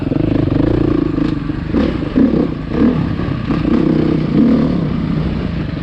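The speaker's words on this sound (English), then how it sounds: "This bike is just so easy to ride." A 2020 Beta motorcycle being ridden, its engine droning loud and steady from close by with rising and falling throttle and occasional clattering knocks, without any voices.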